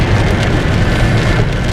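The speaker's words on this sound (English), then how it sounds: "it is a monsoon outside. It's still raining." Heavy rain falling outside as a dense, loud, continuous hiss of drops, steady throughout with no talk.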